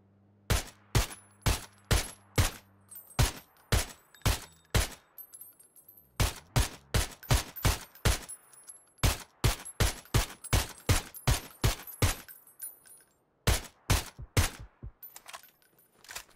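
Rapid suppressed gunfire from the battle game PUBG, crisp sharp cracks fired in quick bursts of evenly spaced shots, with brief pauses between volleys, loud and close with no talking.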